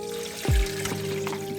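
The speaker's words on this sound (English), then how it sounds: "so drain the water." Water from a pot of simmered pork bones for ramen broth is poured off in a short splashing gush, a quick burst of liquid followed by a brief trickle, close and fairly quiet.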